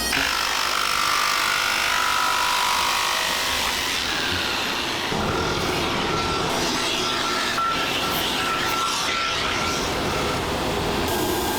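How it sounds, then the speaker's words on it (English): A bandsaw in a ski factory in Golden, Colorado trims excess material off skis, giving a loud, continuous close-up cutting whine that shifts in tone partway through, with no voices. "So we're going to take them right here to this bandsaw."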